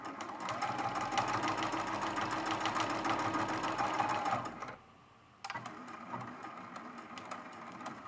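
A sewing machine runs steadily and close while sewing a small quilted mug rug, with a whirring mechanical drone, then stops briefly and restarts for a short back stitch to lock the seam.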